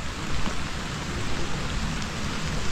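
Steady rain falls outdoors in a dense, even hiss with no breaks, loud and close, with no voices.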